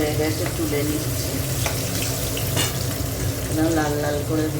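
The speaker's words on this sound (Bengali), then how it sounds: "লাল লাল করে ভেজে নিচ্ছি।" Fish sizzle and crackle as they fry in hot oil in a home kitchen while being stirred, a steady close hiss with scraping utensil strokes throughout.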